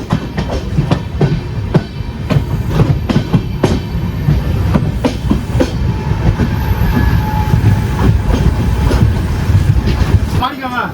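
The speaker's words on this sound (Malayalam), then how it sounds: "ഇപ്പുറം ക്രോസിങ്ങിന് നടക്കുന്നത് നമ്മുടെ കണ്ണൂർ യശ്വന്ത്പൂർ എക്സ്പ്രസ് ആണ്." Kannur–Yesvantpur Express train passing at a railway crossing, a loud steady rumble of wheels with rhythmic clickety-clack beats throughout, close by and continuous until it tails off near the end.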